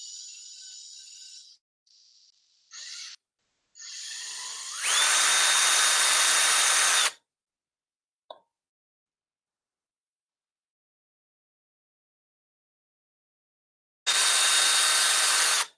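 Power tool drives an M3 bolt during assembly of an ant PCB maker frame: two loud, steady whirring bursts of about two seconds each, with quieter short clicks and handling noises between them and no talk.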